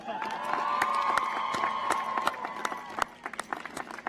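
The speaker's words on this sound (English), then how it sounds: "Now I invite everybody to clap for Dr." At a college degree ceremony, an audience claps and cheers. One sustained whoop rises over steady clapping, and the applause thins out into scattered individual claps toward the end.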